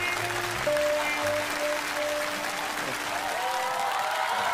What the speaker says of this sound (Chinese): 热烈的掌声有请